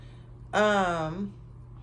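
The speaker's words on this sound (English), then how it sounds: "I know y'all been hearing my little kitty cry" A kitten gives a single drawn-out, plaintive meow lasting under a second, close and clear over a low steady background hum.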